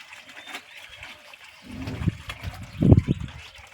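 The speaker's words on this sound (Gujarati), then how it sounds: "એટલે ઉપર પાણી એડે છે." Water splashes and patters across a sun-heated corrugated tin shop roof in irregular bursts that build toward the end, fairly close, with no talking.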